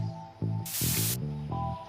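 Spray paint can hissing in the video game Bully, a single broad burst of spray lasting about half a second, loud over steady game music.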